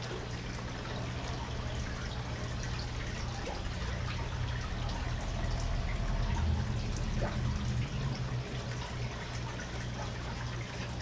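Aquarium gravel vacuum shaken up and down in tank water during routine fish tank maintenance, giving a steady, faint churning trickle and slosh that runs on without a break and with no talking.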